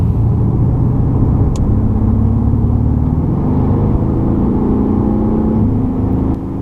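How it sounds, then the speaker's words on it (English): A Mercedes-AMG car is pushed hard on the Zolder race track behind a blue AMG GT R. Its engine holds a loud, steady roar throughout, with pitch slowly rising and falling as it revs. "as you can see right now we're driving behind the blue AMG GTR, and yeah, I think here I got to push it a bit"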